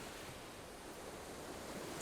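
Sea waves wash onto a beach in a steady, soft roar of surf mixed with some wind noise, continuous and fairly faint with no voices.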